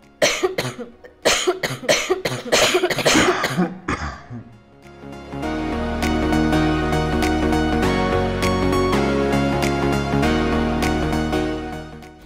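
Several harsh, close coughs and throat clearing come in a quick burst, then stop as steady music begins and continues alone.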